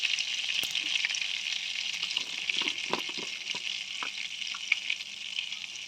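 Shahjeera and a piece of cinnamon frying in melted butter, a bright steady sizzle with faint crackles and a few soft stirring taps, close and fairly quiet.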